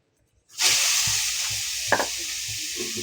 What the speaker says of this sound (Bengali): এই তেলের ভিতরে পেঁয়াজ দিয়ে দিলাম